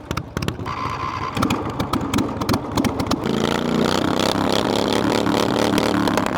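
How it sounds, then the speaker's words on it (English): A tractor engine on a field of very tall grass cranks with sputtering bursts, then catches and settles into a steady, loud, close running drone. "I'm gonna start up the tractor first."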